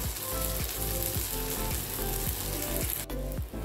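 Jowar (sorghum flour) dosa cooking in a pan over a low flame gives a steady, close sizzle with faint crackles that holds evenly for the whole stretch, with no one talking.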